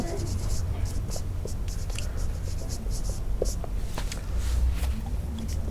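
A physics question being written out by hand during a lesson on uniform acceleration, steady soft scratching strokes close up throughout with faint background noise.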